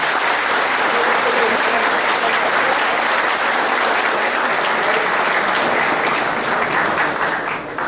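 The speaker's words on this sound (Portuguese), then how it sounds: "Gilberto Palmares, um parabéns para ele na palma de palmas." An indoor crowd at a gathering of former Banerj bank employees applauds for a birthday, dense loud sustained clapping that holds steady for several seconds before easing slightly at the end.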